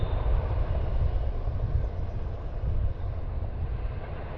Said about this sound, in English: Oh yeah, there's a train over there.